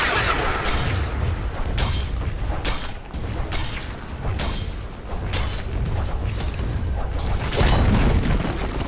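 The Dire team's top tower collapses during a Dota 2 match, a run of heavy booming impacts and crumbling bursts with whooshing spell effects, loud and dense with brief lulls between hits.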